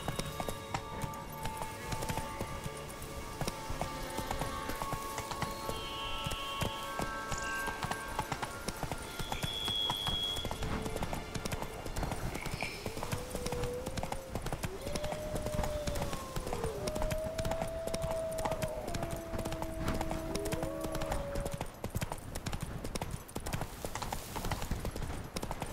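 A horse gallops in The Witcher III, with rapid steady hoofbeats continuing throughout alongside game music with melodic tones, mid-distance and constant.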